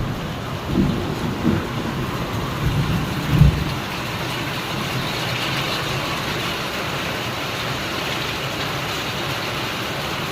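Steady rain pours down in a dense wash of noise, with a couple of low rumbles of thunder early on, close and fairly loud.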